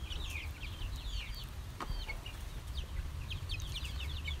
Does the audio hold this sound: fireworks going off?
no